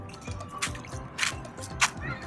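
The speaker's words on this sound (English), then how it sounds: "It's raining right now," Rain falls at a Florida beach campground, with scattered, irregular drips tapping nearby at a soft volume over a faint outdoor background.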